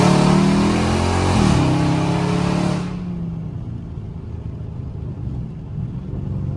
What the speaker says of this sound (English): I'm here to let y'all hear the rest of these Catless mids